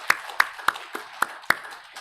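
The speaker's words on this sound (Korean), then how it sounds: "영광의 박수를 올려드리겠습니다" A church congregation at a New Year Sunday service claps in a slow, evenly spaced rhythm, six sharp unison claps ringing in the hall, with no speech over it.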